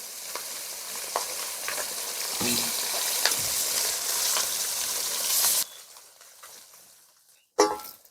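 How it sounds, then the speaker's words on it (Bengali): Pieces of river rui fish fry in hot oil with a loud, continuous sizzle as they are turned in the pan. The sizzle drops sharply partway through, then a brief clatter follows. "একদিকে লাল লাল করে মাছ ভেজে দিয়েছি অন্যদিকে মাছ ভাজার জন্য আমি উল্টে দিচ্ছি"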